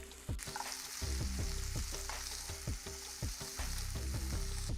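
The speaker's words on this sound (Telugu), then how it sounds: "ఉల్లిపాయ బాగా వేగిందండి" Onions fry in hot oil in a pan with a steady close sizzle, punctuated by regular rhythmic scraping and stirring strokes, alone with no voices.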